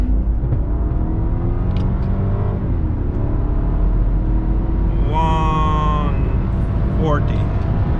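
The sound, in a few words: BMW E60 550i V8 accelerating in manual mode, second gear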